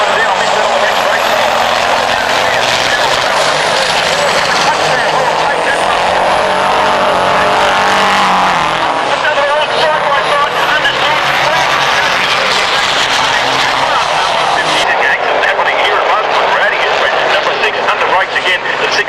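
Diesel racing trucks, Kenworth, Volvo and MAN, roar around the Baskerville circuit at a 1991 truck racing meeting, a loud, continuous engine din that swells and fades as the trucks pass, with commentary over it.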